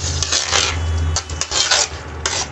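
Spices, including cumin and coriander powder, being stirred and roasted in a pan for Hyderabadi paneer: a steady, raspy scraping of a spoon across the pan, with repeated strokes and a low hum beneath.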